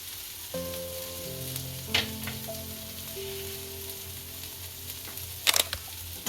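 Spiny gourd (kantola) curry sizzles steadily in a pan as turmeric and coriander-cumin powder go in, with a soft hiss throughout and a couple of brief clinks of a utensil.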